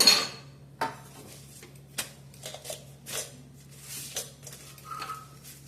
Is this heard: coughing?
no